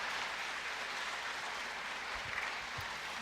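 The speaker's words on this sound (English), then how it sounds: "Can we just give her a round of applause?" Audience applause after a church sermon, a steady dense wash of clapping filling the whole stretch, moderately loud and without any speech over it.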